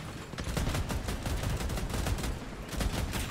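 Paired AC62 Therm autocannons firing in the vehicle combat game Crossout, a loud, dense stream of rapid heavy shots thudding in a steady rhythm throughout.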